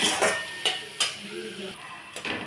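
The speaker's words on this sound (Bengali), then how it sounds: "এইভাবে আমি কিন্তু ভাজা শুরু করব" Potatoes and onion stalks fry in a pan with a soft, steady sizzle, punctuated by several sharp scrapes and clinks of a spatula stirring against the metal.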